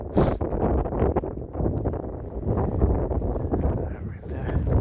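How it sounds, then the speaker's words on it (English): Blizzard wind gusting and buffeting in a Boston street, with blowing snow, a rough, broadband roar that stays fairly loud throughout. "It was blowing snow again."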